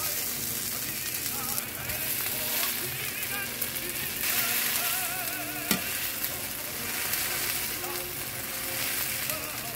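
Cauliflower patties fry in a non-stick pan with a continuous crackling sizzle, close and even, plus a faint hum and a single sharp tap partway through.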